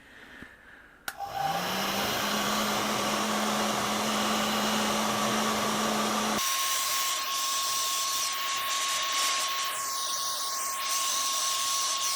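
A heat gun blasts a steady, loud whooshing hiss onto an old plastic motorcycle seat pan from a 1983 Honda XL250R, starting after a brief click and running continuously with a shift in pitch partway through.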